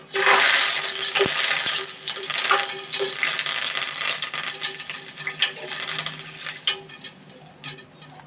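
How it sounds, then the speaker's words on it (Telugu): Curry leaves fry in hot oil in a pan, a dense loud crackle and hiss that is strongest at first and then settles into scattered pops and sputters. "కొంచెం కరివేపాకు కూడా ఫ్రై చేసుకోవాలి ఆయిల్లో"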